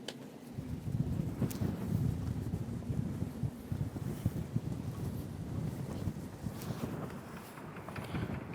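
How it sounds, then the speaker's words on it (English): Strong wind buffets the deck of an anchored sailboat, a steady broadband roar of gusts rattling the microphone throughout, with no talking. "It's so windy though."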